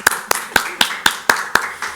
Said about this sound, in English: so we can applaud.